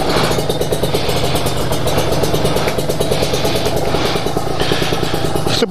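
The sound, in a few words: Kawasaki Ninja motorcycle engine starting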